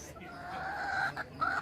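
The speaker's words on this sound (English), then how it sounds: "So here one hen in the open." A Kadaknath hen out in the open in a park clucks nearby, a short series of soft, throaty calls rising to a louder final cluck.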